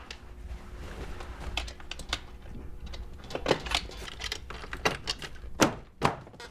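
Metal rods are knocked off the ribs of a Long Haul Commando folding kayak during assembly, making a series of sharp, close taps and knocks at an irregular pace that grow louder toward the end.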